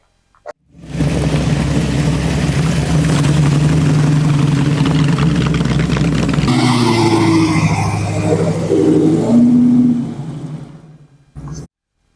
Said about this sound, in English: We are taking my 98 Renault Megane Saloon, and he's already raring to go